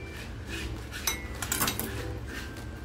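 A knife slices the top off an eggplant, with close clinks and knocks against a plate or board, including one sharper tap midway, over low kitchen clatter.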